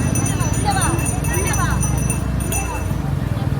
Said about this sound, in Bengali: এইখানে দেখো সামনে ঘোড়া আছে